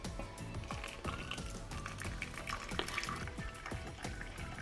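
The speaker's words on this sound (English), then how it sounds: "so now we're gonna add the hot water." Hot water is poured into a cup holding hot chocolate mix, a steady close trickling and splashing stream with a few clinks and knocks of the cup, no talking.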